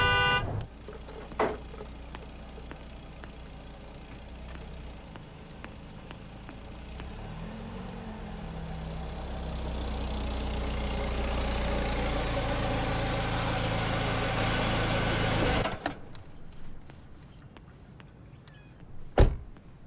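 A car pulls up outdoors, its engine noise swelling steadily over about fifteen seconds before cutting off abruptly, with a couple of short knocks or clicks at the start and end and no talking.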